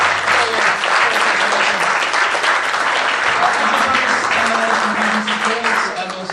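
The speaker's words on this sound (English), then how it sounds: "give him a round of applause, guys" An audience at a talk on the history of Gremlin Graphics applauds, with dense steady clapping filling the whole clip and a few voices calling out underneath.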